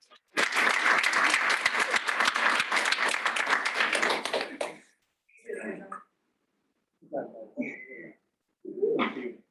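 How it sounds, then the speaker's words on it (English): An audience claps loudly for a professor after student thesis presentations, a steady burst of about four seconds that stops abruptly, followed by short bits of speech in a quiet room. "So can you clap for Scott?"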